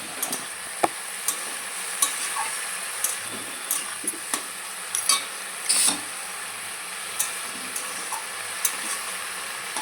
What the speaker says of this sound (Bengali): অল্প একটু সামান্য তেল দিয়ে কালো জিরে ফোড়ন দিয়ে তারপরে একটুখানি হালকা একটু জলও দিয়ে দেবো